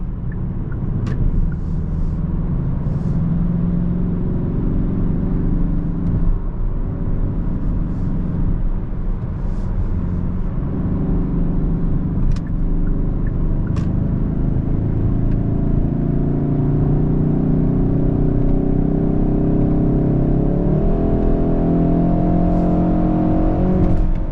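A 2025 Kia K5 GT Line driving on a road, heard from inside the car: a steady low engine rumble and tyre drone that gradually rises in pitch as the car accelerates, with no talk.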